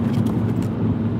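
A 2020 Mini JCW cruising at about 62 mph, heard from inside the cabin as a loud, steady engine and road drone with no pauses.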